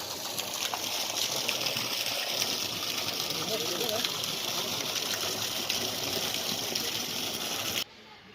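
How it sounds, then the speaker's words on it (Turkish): An electric water pump runs at a charitable drinking-water fountain, with water gushing in a steady, loud, continuous rush that cuts off abruptly near the end. "Bu elektrikle çalışan su pompası."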